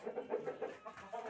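A black-eyed, black-legged Aseel rooster weighing about 4 kg clucks close by in a quick, rhythmic run of short, throaty notes.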